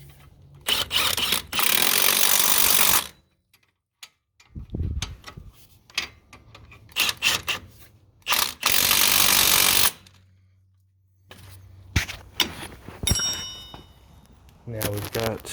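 During a Subaru transmission install, a power tool zips a nut on in several loud, short bursts between stretches of quiet and shop clatter, with a person talking in between.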